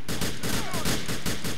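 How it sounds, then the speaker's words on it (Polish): Grand Theft Auto IV gunfire rattles off in rapid, evenly spaced bursts, loud and close, with no talk over the shots. "O kurde, strzelił mnie"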